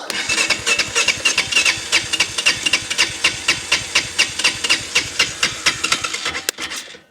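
A Honda Foreman 450ES ATV, powered through battery terminals hooked up by hand, turns over in a steady run of close, rhythmic cranking pulses for about seven seconds, then cuts off abruptly; no one speaks.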